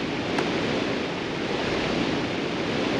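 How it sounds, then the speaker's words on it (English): Roaring waterfall ambience from the PS1 platformer Tomba! 2, a steady broadband rush of falling water that stays loud and unbroken throughout with no voices. "like the Doppler effect on the Waterfall of the Heavens"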